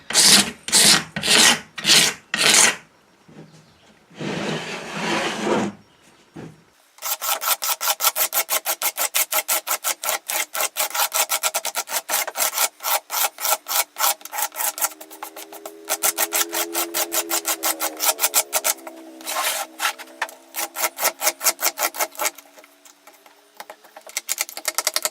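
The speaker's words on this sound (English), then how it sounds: "just kind of scrape with a flat razor blade" A flat razor blade scrapes dried glue along a seam in rapid, rasping strokes, first a few separate passes and then a long run of quick repeated scrapes, close and fairly loud.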